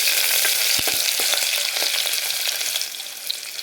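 Sliced onions and green chillies sizzle loudly and steadily in a hot oiled pan already holding cashews, cloves and cinnamon for palak paneer curry, with a few soft stirring knocks.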